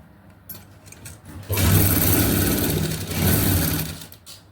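A sewing machine stitches salwar lining fabric in one steady run of rapid mechanical chatter lasting about three seconds. It starts after a quiet lead-in and fades out at the end, close and loud with no talk.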